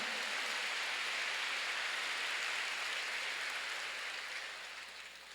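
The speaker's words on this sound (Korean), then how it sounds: "박수." A church congregation applauds during a sermon in a steady, dense wash of clapping that holds evenly, then fades toward the end, with no voices over it.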